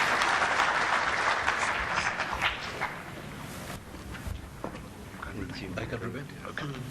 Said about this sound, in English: Another round of applause for the panelists as they come down.